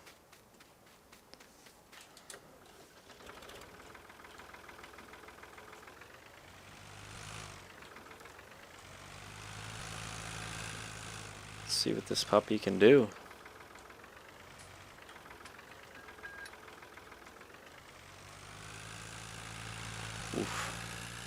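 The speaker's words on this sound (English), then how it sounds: "we are going to get into the Ford 3000, hook onto this new to us wheel rake" In a farming video game, a Ford 3000 tractor engine drones steadily while it pulls a wheel rake, with a short burst of clattering midway and someone talking throughout.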